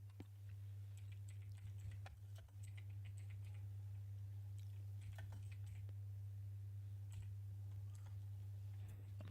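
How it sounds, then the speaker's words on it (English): Someone types on a computer keyboard with one hand, producing soft, irregular clicks and taps over a strong steady low electrical hum, quiet and close. "I'm typing this with one hand."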